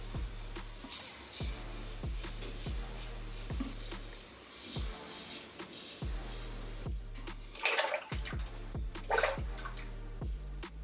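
A safety razor rinsed under running water from a tap, with steady splashing and a regular rhythm of tapping knocks as the razor is struck against the basin.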